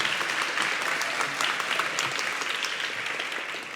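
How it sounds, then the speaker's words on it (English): Audience applause after an introduction at a Van Jones justice event, a steady, dense wash of clapping lasting throughout and slowly tapering at the end. "Another round of applause for Van Jones."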